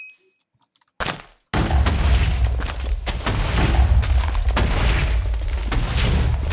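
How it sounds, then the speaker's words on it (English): TNT blasts blocks apart in a Minecraft death run game, a loud booming roar that cuts in suddenly after a brief quiet stretch and then rumbles on continuously as a dense, sustained wall of explosion noise. "when you get TNT, you try and blow up the blocks"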